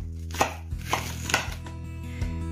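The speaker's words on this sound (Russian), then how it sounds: "Я вот так еще разрезаю наполовину" A knife cuts Napa cabbage leaves in half on a board, giving several crisp, close chopping thuds spaced irregularly with quiet between them.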